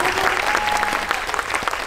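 Audience applause fills a screening hall at a movie event for the Korean film Hunt, with steady dense clapping throughout; a few voices are faintly audible underneath.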